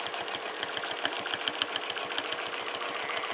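A sewing machine stitches a quilt guided by quilting rulers, its needle chattering in a fast, even rhythm of rapid repeated strokes, close and steady, with no voices.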